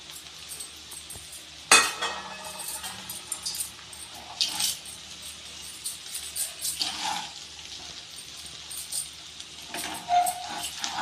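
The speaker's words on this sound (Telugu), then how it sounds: "అంతా కలుపుకోవాలండి, మొత్తం కలుపుకుంటే బాగుంటుంది." Vegetable fried rice stirred in a pan with a metal spoon, faint scraping and clinking strokes at irregular intervals over a soft background sizzle, no talking.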